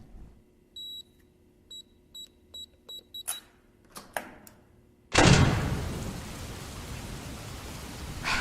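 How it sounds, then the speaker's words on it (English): Several short electronic beeps and a few clicks, then heavy rain suddenly starts and pours steadily, loud and dense, for the rest of the clip. "Great, now it's raining."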